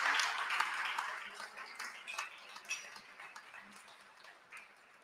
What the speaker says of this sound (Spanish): quisiera iniciar esta actividad con un aplauso fuerte para Berta Vega